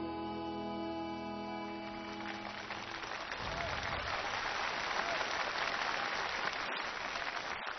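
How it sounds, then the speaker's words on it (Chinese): An audience applauds the Guangzhou choir at a televised choir contest final, broad sustained clapping that swells and grows denser, with a sustained tone fading out early on. "让我们再一次用掌声感谢广州队"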